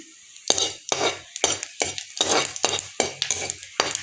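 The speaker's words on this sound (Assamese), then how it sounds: "ইয়াতে জিৰা গুটি কেইটামান দি দিম। এইকেইটা ধুনীয়াকৈ ফুটিব দিম এতিয়া মই।" Cumin seeds, with a little coriander seed, crackle and pop in hot oil as a spatula scrapes the pan in quick repeated strokes, each bringing a sharp burst of sizzle; close and fairly loud, no voices.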